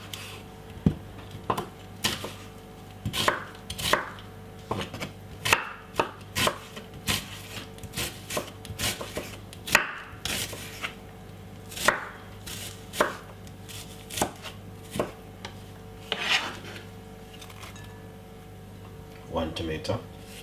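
A knife chops red onion on a cutting board in quick irregular strokes, with crisp taps at varying intervals and brief pauses between bursts.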